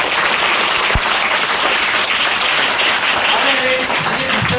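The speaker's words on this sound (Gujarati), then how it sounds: "જોરદાર તાળી પાડી દઈશું આપણે" Audience at a Rotary Club Guru Purnima gathering breaking into strong, sustained applause, a dense wash of clapping filling the room for several seconds.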